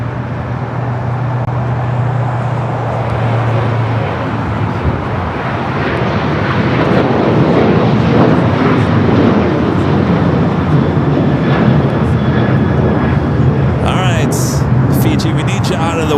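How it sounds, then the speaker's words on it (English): A China Eastern airliner taxiing onto a taxiway at LAX airport, a loud continuous engine rumble and roar that swells slightly midway, with brief clicks near the end. "we're definitely getting China Eastern heading to Shanghai, making that left-hand turn onto taxiway Bravo"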